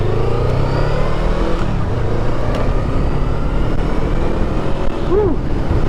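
A 2023 Honda Rebel 500 motorcycle pulls away, its engine note climbing through the gears under steady wind rush from a chin-mounted camera, loud and close throughout.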